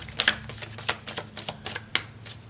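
A deck of tarot cards being shuffled up close, with a handful of crisp riffling flicks and soft slaps spaced unevenly over a couple of seconds.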